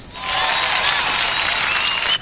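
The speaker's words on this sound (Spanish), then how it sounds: "Fuerte el aplauso." Loud, dense audience applause from a crowd at a Dominican TV show with a big band, sustained for about two seconds before a brief dip at the end.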